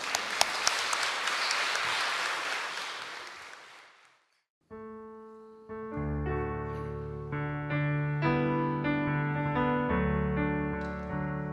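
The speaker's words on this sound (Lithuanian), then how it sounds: "audringi plojimai" Stormy applause from an audience at a local television show, a dense burst of clapping that swells and then fades out over about four seconds, followed after a short silence by sustained instrumental music.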